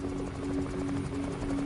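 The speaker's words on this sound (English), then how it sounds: "It's a helicopter." Helicopter in a video game, a steady droning rotor hum with a sustained tonal whine, holding at even loudness throughout with no talk.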